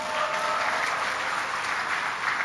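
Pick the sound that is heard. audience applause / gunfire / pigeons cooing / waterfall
audience applause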